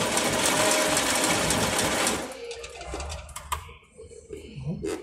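An old Bobina Mágica 270 sewing machine, over 50 years old, runs a half-overlock stitch with a loud, rapid mechanical whir for about two seconds, then falls quiet apart from scattered clicks and light handling sounds.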